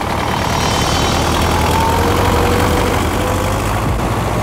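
A vehicle engine labours in reverse up a slope while getting into position to tow a tractor, a loud, steady low rumble with a slight rise in pitch partway through.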